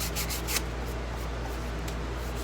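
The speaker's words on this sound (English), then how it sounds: "Flip it over, give it a little sanding." Hand sanding on a cigar box guitar, a steady close abrasive rubbing that runs continuously with a few brighter strokes near the start.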